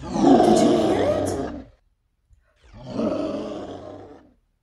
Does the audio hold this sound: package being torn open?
no